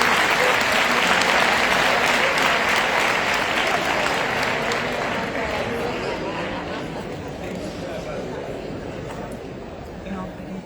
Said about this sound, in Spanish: Los aplaudimos.